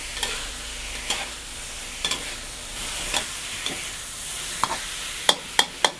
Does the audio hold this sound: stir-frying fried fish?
yes